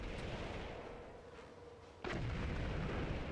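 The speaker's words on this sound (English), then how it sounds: "we could mortar him if I didn't just launch it directly into a stump" A mortar fires in the video game Army Men 3D with a single dull, low thump that breaks through a steady background rumble, fairly faint and without any voices.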